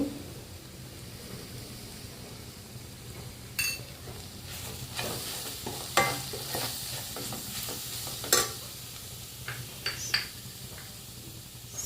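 A spoon stirs chili powder and turmeric into a sizzling fish curry in a pan. Scraping strokes and occasional clinks against the metal rise over a steady frying hiss, close by, with no talking.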